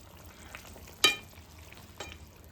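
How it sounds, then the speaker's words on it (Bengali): Folui fish simmers in a bubbling curry broth, giving a soft, steady low sizzle with a couple of brief sharper pops. "ফলি মাছ কিন্তু ঝোলে দেওয়ার পরে একটু বেশি সময় ফোটাতে হয়"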